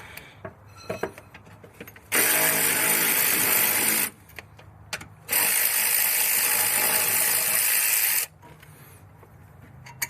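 A ratchet with a 14 mm socket works a bolt on a Hyundai Sonata transmission mount, giving two long runs of rapid, loud mechanical clicking separated by a short pause, close up with no talk.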